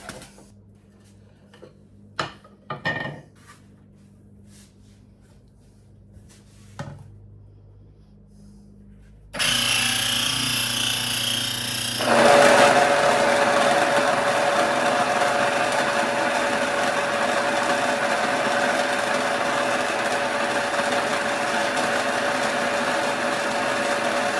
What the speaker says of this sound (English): I'm going to go ahead and grind it up in my grain mill